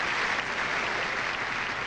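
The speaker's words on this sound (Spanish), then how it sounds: "Ryan Phillippe y Helen Mirren aplauden este vídeo de Gosford Park" At the Academy Awards ceremony, a large theater audience applauds in a steady, even wash of clapping, heard alone without voices.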